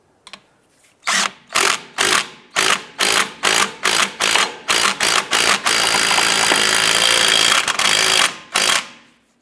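A tool hammers a bolt on a 2011–2019 Ford Fiesta's rear brake drum, biting in a dozen loud, rapid bursts and then one long sustained run, near and alone without talk.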